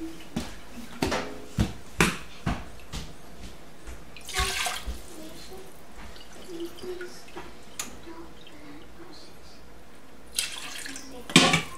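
Water is poured in several splashy bursts into a pot for a Mediterranean yogurt stew, Laban Emmo, with clinks and knocks of a cup between pours, at close range.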